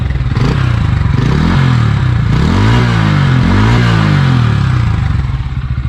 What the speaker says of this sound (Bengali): এই হচ্ছে ইঞ্জিনের সাউন্ড।